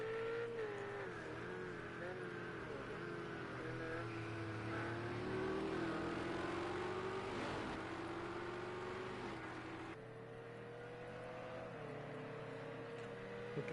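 GT3 race cars in the Project CARS 2 racing game at the Nurburgring, with a sustained engine note that rises and falls through gear changes while cars run side by side, under a commentator's talk.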